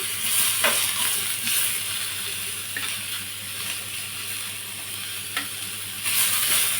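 Tomatoes fry in oil with ginger and garlic masala, giving a steady, bright sizzle close by. A few soft clicks of stirring break into it, and a low hum runs underneath.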